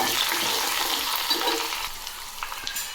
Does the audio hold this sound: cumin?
yes